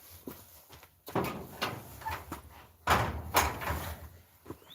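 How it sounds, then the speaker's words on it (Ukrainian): An indoor door being shut. Two fairly soft thuds and clunks land a couple of seconds apart, with faint shuffling and handling noises between them in a quiet room. "Я закрию двері."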